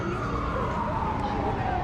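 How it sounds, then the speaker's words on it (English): A siren wails on a busy New York City street near Bryant Park on Easter Sunday, a steady tone sliding slowly downward, loud and continuous under crowd noise and nearby talk. "Someone asked, no loud sirens yet? You just jinxed it."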